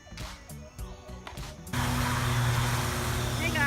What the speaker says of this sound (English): We got lawn people next door mowing.